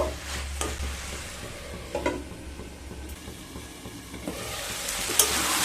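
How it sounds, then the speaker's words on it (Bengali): Fried potatoes and pointed gourd sautéed and stirred in a pan with soybean curry base: a low sizzle under repeated scraping spatula strokes and light clinks, several distinct stirring passes, close up. "এবার ভেজে রাখা আলু আর পটল দিয়ে দেব আবারও খুব ভালোভাবে মিশিয়ে নেব মিশিয়ে নিয়ে দেড় থেকে দু মিনিট আবারও কষিয়ে নেব"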